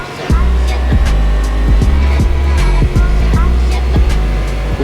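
A stock car engine roars at Laguna Seca in a racing video game, loud and constant, with a deep drone and rapid gear-shift cuts repeating roughly every half second as it accelerates.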